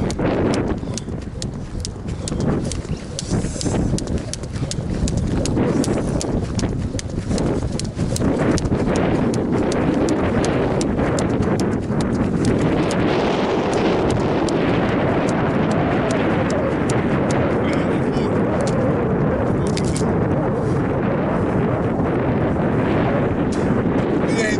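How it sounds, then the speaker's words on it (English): Strong wind buffets the microphone in a constant heavy roar, with rumbling gusts and scattered rattling throughout. "A little windy, but that ain't stopping us."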